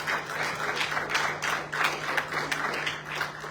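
A church congregation claps together as an offering of praise during a Spanish-language service, a rhythmic run of fairly soft, roomy hand claps with a low steady hum underneath.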